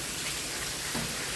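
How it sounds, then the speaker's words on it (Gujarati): Steady rain falls during the monsoon season, a dense, even hiss of drops on surfaces that holds at the same moderate level throughout, with no voices. "વરસાદ ચાલુ છે, વરસાદની મોસમ."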